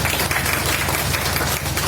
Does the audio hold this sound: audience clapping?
yes